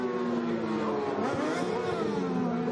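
A racing sidecar with an old 2008 Yamaha Screamer engine roars past at full throttle, its loud high-revving drone dipping in pitch as it goes by.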